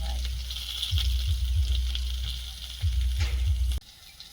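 Potato pieces fry in a pan in a village kitchen, a steady sizzle with bursts of crackling and stirring, then the sound cuts off abruptly near the end.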